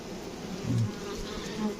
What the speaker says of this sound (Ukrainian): Отут бджола трошки сидить.